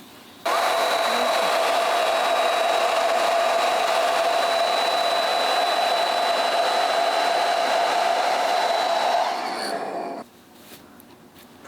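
A hair dryer blows steadily at close range on hair set in rollers, with a constant whirring hum, then cuts off near the end, leaving quiet room noise.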